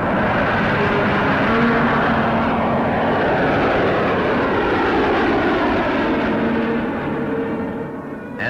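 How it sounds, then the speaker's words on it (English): A de Havilland aircraft's engine in flight, a loud continuous droning roar with a slowly shifting pitch, steady throughout and easing slightly near the end, no voices. "It flew extremely smoothly and responded to controls in the best way that a de Havilland aircraft usually did."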